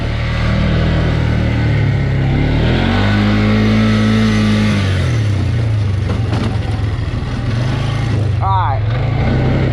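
A Polaris ATV quad with all-wheel drive revs loudly and steadily while driving, its engine pitch rising and falling close up, with a voice speaking briefly near the end.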